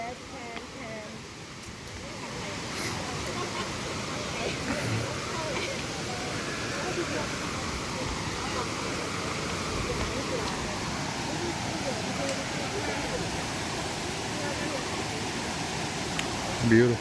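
Kuang Si Waterfall in Luang Prabang roars as a steady, dense wash of falling water, broad and continuous from start to finish, with faint voices mixed into the constant rush.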